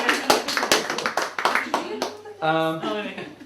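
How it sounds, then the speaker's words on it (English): A few people clap in short, sparse bursts close by, with voices talking over and between the claps. "Well, round of applause for that."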